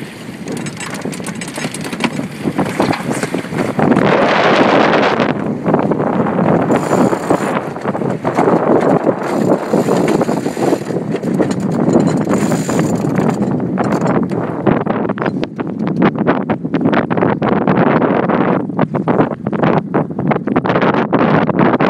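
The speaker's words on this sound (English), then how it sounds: "She is ready to tack the boat by herself, going from hard on the wind on a starboard tack to hard on the wind on a port tack." Catalina 27 sailboat tacking on the Columbia River: strong wind buffets the microphone in a steady loud roar, with flapping sail and rigging rattles rising as the boat comes about from starboard to port tack.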